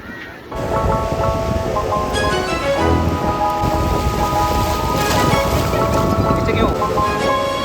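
Heavy rain on a Sri Lankan beach roars steadily after a short quieter start, a dense continuous wash with faint tonal hum running underneath.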